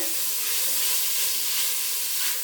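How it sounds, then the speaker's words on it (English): Steady, bright sizzling of spices frying in a hot pan, a continuous crackling hiss with no talking. "we're just going to let this fry off for a couple of minutes"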